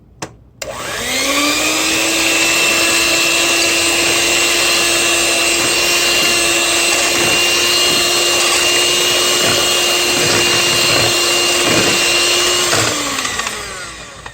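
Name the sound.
electric mixer mixing wet ingredients for tres leches cake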